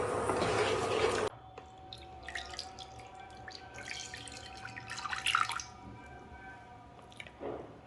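Jaggery water is poured through a filter to strain out grit, giving light dripping and trickling with small splashes, opening with a louder pour before settling into soft intermittent drips.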